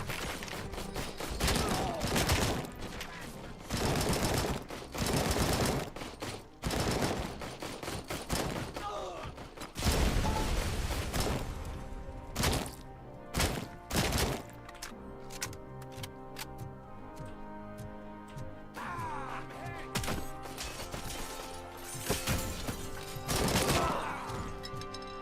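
Grenade explosion and gunfire in a video game, with a long run of loud, dense shots and bursts of rapid fire, broken by short gaps and sharp single cracks.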